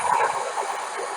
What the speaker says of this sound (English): And the train just wanted to be heard, okay?